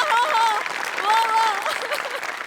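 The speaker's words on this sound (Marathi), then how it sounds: "म्हणजे बनेसाठी टाळ्या." Audience applause for a comedy skit performance on a Marathi stage show, sustained clapping at steady loudness throughout, with a host's voice talking over it.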